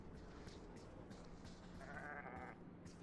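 Sheep bleat faintly in the video game Argonus and the Gods of Stone, a few short calls over a soft game ambience, with one longer bleat near the end and no voices.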